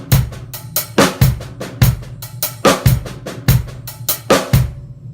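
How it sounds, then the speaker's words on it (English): A drum kit plays a busy, steady Latin groove built on inverted paradiddles up close, with kick thumps on a regular pulse under rapid sticking on snare and cymbals. "I'll still do the kick drums in the same spot with just those single rights"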